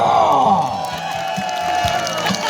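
Crowd cheering and shouting at a rural festival song contest awards ceremony, a loud roaring mass of voices with whoops and applause blended in, close and continuous.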